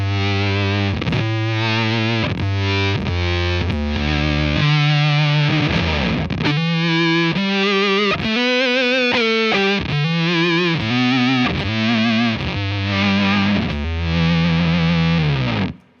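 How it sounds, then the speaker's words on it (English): Overdrive blended into a Beetronics Zzombee Filtremulator pedal, giving a loud, buzzy, heavily distorted and filtered guitar line with shifting sweeping tones, played continuously for about sixteen seconds, then cutting off. "when I press and hold this button, I'm gonna blend in my B,"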